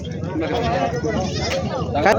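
Goats bleat amid the bustle of a crowded goat market in Kalamnuri, Hingoli, their calls mixed with overlapping voices and busy background murmur.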